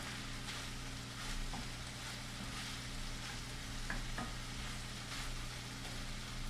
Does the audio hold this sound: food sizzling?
yes